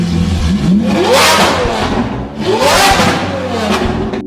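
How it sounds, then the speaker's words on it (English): A Lamborghini Aventador, the wedge-shaped scissor-door model, accelerates hard with a loud, raw exhaust note, revving up through two rising surges that stay close and dominant throughout. "this wedge-shaped scissor-door Lambo blasts into the sunset with neck-snapping acceleration and a maniac exhaust note"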